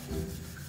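Wet hands rub together over a kitchen sink during handwashing in a soft, continuous, close-up swish that lasts well under a second.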